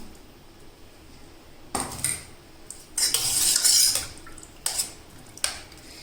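A metal spoon stirs fresh cream into milk in a pot for a sago sweet, with intermittent clinks and scrapes against the vessel in short bursts, some louder clusters near the middle.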